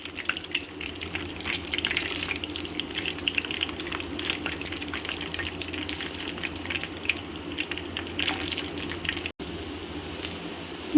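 Potato nuggets shallow-fry in hot oil over a medium flame, giving a steady, close, continuous sizzle and crackle with a brief dip near the end and no voices.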